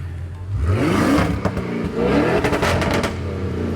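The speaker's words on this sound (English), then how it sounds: "No exhaust video is complete without a sound clip before." A powerful Audi RS7 twin-turbo V8 engine revs up and down repeatedly at close range, its deep exhaust rising to a roar and falling back, with no one speaking.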